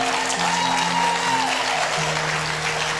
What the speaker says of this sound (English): Can you give him a clap?